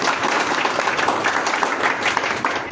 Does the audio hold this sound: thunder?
no